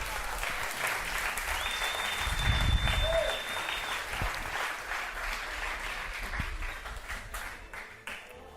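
A church congregation gives steady, full applause that holds for several seconds at an even level before tapering off near the end, with some murmured voices and a few cheers within the crowd noise.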